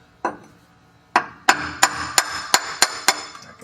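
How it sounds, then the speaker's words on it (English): A hammer strikes a hunk of wood in a 1965 Ford cabover repair setting, sharp, loud knocks: two spaced hits, then a steady run of about seven evenly timed blows close by. "Let's go whack that with a hunk of wood and a hammer."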